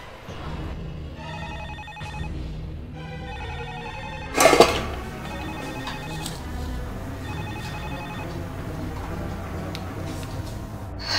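A telephone rings back while a call is being placed, giving repeated electronic ring bursts with pauses between them, moderately loud and close, with a sharp knock or bump partway through.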